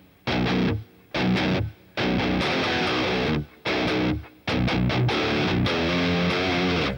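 Distorted electric guitar through a Boss Katana Mk II amp with 2.6-second plate reverb, loud chugging bursts separated by short abrupt gaps, then a longer sustained riff near the end.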